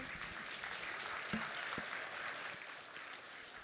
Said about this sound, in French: Encore, on peut l'applaudir.